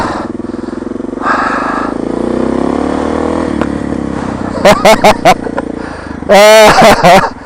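DR650 dirt bike riding off a curb in snowy street conditions, its engine droning and rising steadily, then cut by sharp clattering bursts as the bike drops, with loud voices breaking in near the end.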